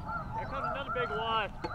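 Snow geese honk in flight over a spring conservation hunt, a flock calling in overlapping nasal honks that rise and fall close by for a couple of seconds.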